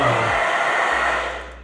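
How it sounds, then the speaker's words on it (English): Blow dryer running on its cool, low setting while styling a modern undercut side part, a steady close airy rush that holds level and then tapers off slightly toward the end, with no one speaking. "you can put your blow dryer on cool and"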